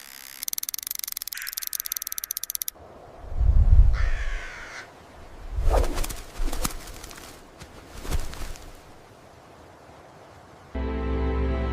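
A crow caws several times, loud and close, with clear pauses between the harsh calls, while other abrupt noises come in at the start and end.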